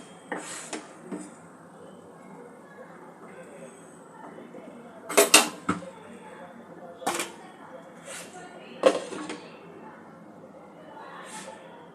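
A lid goes onto a pot of Bengali sweet pulao after the gas is switched off, giving a few sharp metallic clanks and clinks spread over the stretch, with a person talking between them.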